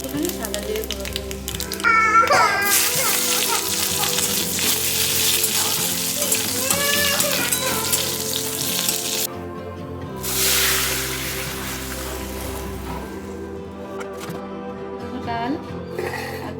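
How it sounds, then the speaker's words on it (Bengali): Two dried red chillies, radhuni and white cumin sputter in hot oil in a kadai, making a loud, crackling sizzle that surges in two bursts over a steady background hiss, with no talk. "কড়াতে তেল গরম করতে দিয়ে দিয়েছি। এর মধ্যে 2টো শুকনো লঙ্কা ফোড়ন দিলাম, রাঁধুনি, সেখানে সাদা জিরে ফোড়ন দিলাম।"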